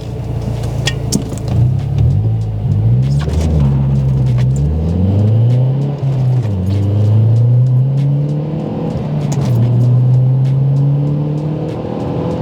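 A stock second-generation Mazdaspeed 3 accelerates hard from a standstill on a wet road, its loud engine climbing in pitch through several gear changes with short dips between shifts.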